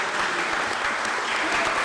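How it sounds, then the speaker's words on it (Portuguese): An audience at a formal session presenting a declaration applauds Monsignor Marcelo Sánchez Sorondo. The clapping is dense and sustained, a steady roar of many hands at even loudness throughout. "pedir uma salva de palmas, aplausos a ele"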